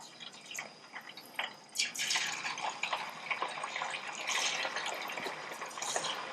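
Small diced chicken pieces coated in batter drop one by one into hot oil and fry with a bubbling, crackling sizzle that swells after a few light splashes, close and fairly quiet, with no talking.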